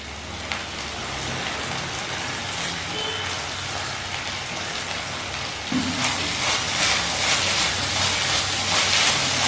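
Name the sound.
onions and green chillies sizzling while frying in a pan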